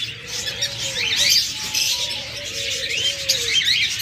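Several pet diamond doves and other caged birds chirp and coo steadily at moderate distance, a continuous chatter of small calls with no talking.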